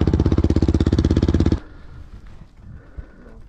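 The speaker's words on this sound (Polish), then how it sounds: "Kurde, motor się przewraca" A motorcycle tipping over on a steep climb: a loud, rapidly pulsing engine that cuts out abruptly partway through, followed by quieter scraping and a soft thump.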